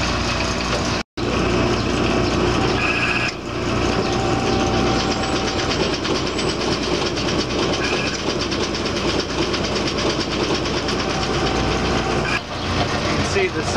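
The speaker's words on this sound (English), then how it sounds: "You can see the side tilt adjustment cylinder working." An Oliver 4800 gravity table separator runs steadily and loudly, a dense continuous mechanical rumble and rattle filling the whole span, with a brief dropout early on as its adjustment cylinders move.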